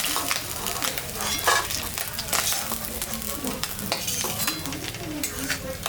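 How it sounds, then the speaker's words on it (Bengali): Cumin seeds, dry red chillies and bay leaves temper in hot oil after fish frying, a crackling sizzle punctuated by metal stirring scrapes and clinks, close and steady, with brief talk faintly underneath. "জিরা শুকনো লঙ্কা সম্বরা দিলাম দুটো তেজপাতাও দিয়ে দিলাম"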